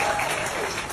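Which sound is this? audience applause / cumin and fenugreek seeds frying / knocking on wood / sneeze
audience applause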